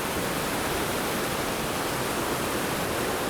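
A raging mountain creek in the Eastern Sierra rushes loudly and steadily, a dense, unbroken roar of close whitewater with no other sounds.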